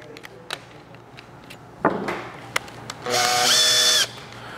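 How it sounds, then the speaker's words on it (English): A power drill bores holes in a plastic rain barrel at an outdoor workshop, with light clicks and handling taps before a steady, loud whine of about one second. "Here, I'll drill my holes quick."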